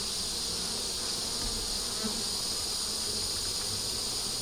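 Honey bees hum steadily at a hive entrance as foragers bring in pollen during a check of the bottom box, a close, continuous insect drone with no talking.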